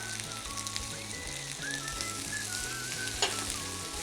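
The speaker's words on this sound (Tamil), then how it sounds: "ஸோ உருளைக்கிழங்கு, கேரட், பீன்ஸ், பட்டாணி, இது அவ்வளோத்தையும் எண்ணெயில் போட்டுடலாம்." Potatoes, carrots, beans and peas sizzling in coconut oil in a pan, a loud, continuous crackling fry with a faint rhythmic thumping underneath and one sharp scrape near the end.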